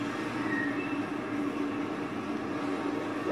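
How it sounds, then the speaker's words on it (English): A train in the video game Condemned: Criminal Origins rumbles along the track, a steady, fairly loud rolling drone with faint metallic squeals, heard alone without talk. "Oh god, the train's going."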